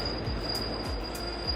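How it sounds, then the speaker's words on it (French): A New York City subway train on the N line rumbling along with steady low roar, a constant high wheel squeal and periodic rhythmic thumps of wheels over rail joints, heard from inside the car without talk. "Nous voilà dans le métro."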